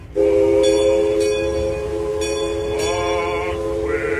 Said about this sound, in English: the boat has a train horn.